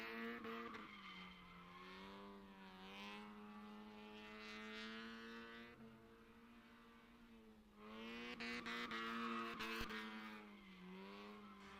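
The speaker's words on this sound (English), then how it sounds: "Mr. Wise throwing this good old Miata around like he always does" A Mazda Miata drift car screams through long sliding passes, its engine note rising and falling with steady harmonic tone and faint tire noise, heard from a distance and fairly quiet throughout.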